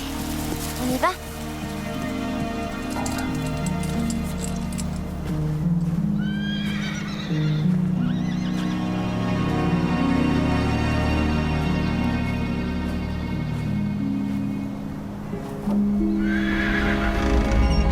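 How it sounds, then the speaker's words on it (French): Horses whinny and neigh amid continuous hoof clip-clop, with a steady background hum and a spoken voice in a TV drama scene set around horses on a ranch. "Des chevaux. Qu'est-ce qu'ils font là?"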